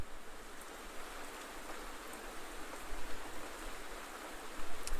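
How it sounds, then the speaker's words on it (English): Steady rain in the video game 198X falls as a dense, even hiss, close and continuous, with no music or voices over it. "Here's some rain."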